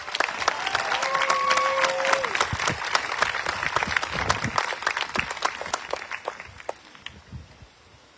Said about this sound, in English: Now let's give a big round of applause to American Legion Post 77 Color Guards.